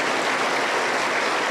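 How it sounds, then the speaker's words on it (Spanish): Dense, loud applause from a church congregation fills the short moment evenly, with no pauses or voices. "Aplausos para el Señor Jesús."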